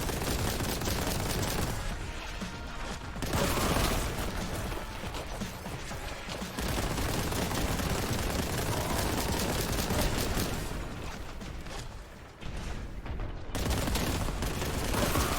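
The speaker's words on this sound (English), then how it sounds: "Can't believe those bullets hit the pillar." Dense rapid gunfire and bullet impacts from Warhammer 40,000: Boltgun fill the scene, loud and continuous with mechanical clatter and crashing hits, briefly thinning before resuming, no talking.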